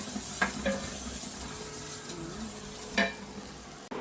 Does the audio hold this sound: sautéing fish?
yes